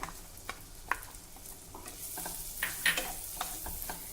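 Finely chopped ginger, garlic and a small onion sautéing in a pan, with a quiet, steady sizzle broken by soft scrapes and clicks of stirring.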